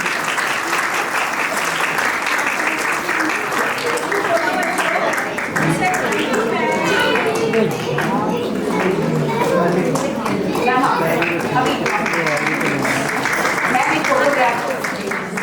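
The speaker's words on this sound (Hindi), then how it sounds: "तो तालियां बजाइए हमारे सिंगर्स के लिए।" Loud, continuous audience clapping at a play school annual day event honours child singers, a dense crowd applause that stays steady throughout.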